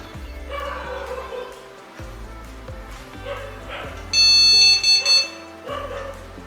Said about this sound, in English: So 2 long beep, 1 short beep.